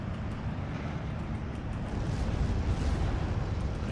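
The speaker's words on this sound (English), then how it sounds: "now we've got dual Panzerwerfer 150mm rocket batteries firing on the enemy position" Dual Panzerwerfer 150mm rocket batteries firing in Steel Division 2, a continuous heavy low rumble with rushing noise that swells slightly midway, steady and dense throughout with no talk.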